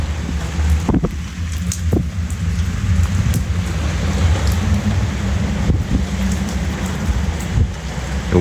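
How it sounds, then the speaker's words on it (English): Steady rain patters on a surface in Turkey, a constant hiss broken by a few sharper drops and taps. "one beautiful sunny day, one rainy day"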